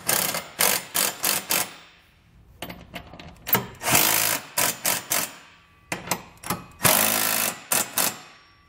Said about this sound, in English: We can now grab a 19 millimeter socket and tighten down our hardware.